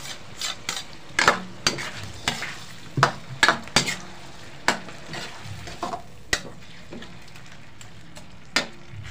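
Tuna flakes go into a pan of carbonara sauce and are stirred, a spoon scraping and knocking the pan in irregular bursts over a soft, steady sizzle, close and fairly quiet.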